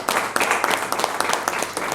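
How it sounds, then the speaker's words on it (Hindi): An audience at the Dadasaheb Phalke Icon Award Films International 2023 ceremony in Dubai claps loudly, a brief, dense burst of many hands applauding together. "मैं तालियां वाली जोरदार तालियां।"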